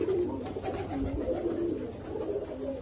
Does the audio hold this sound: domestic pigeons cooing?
yes